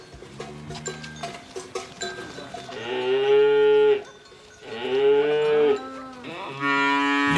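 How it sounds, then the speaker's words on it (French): Several cows in a herd returning from pasture in the Danube delta moo loudly in long, drawn-out calls, one after another, with lower grunting moos and faint background farm noise between them. "les troupeaux menés par le vacher communal rentrent du pâturage"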